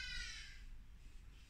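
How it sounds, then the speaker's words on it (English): Loud, harsh squawking from a hadeda ibis near Ballito on the KwaZulu-Natal coast, a raucous call up front that fades into a steady wash of background noise. "And Mr. Hardy-Dar squawks forth."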